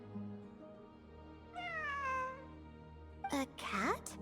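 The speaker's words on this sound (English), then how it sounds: "It really is a cat." A cat in a video game meows twice, two clear, fairly quiet cries over a low background hum. The second cry is sharper and broken up.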